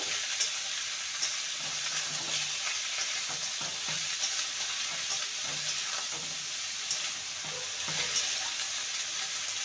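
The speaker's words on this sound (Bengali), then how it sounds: "ভেজে নেব" Snake gourd (chichinga) fries in a pan with already fried potato, giving a soft, steady sizzle with faint stirring taps underneath.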